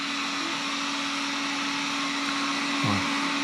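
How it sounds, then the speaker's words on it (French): An Alfawise V10 MAX robot vacuum cleaner runs steadily with its side brushes turning, giving a constant whirring hum with a fixed tone and a brief thump near the end, with no voices. "les brosses latérales ne tournent pas trop vite"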